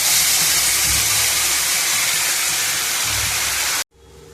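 Spice paste sizzles loudly in hot oil in a pan, a dense, continuous hiss that stops abruptly near the end.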